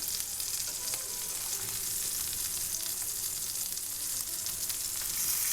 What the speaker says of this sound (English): so let's turn it over now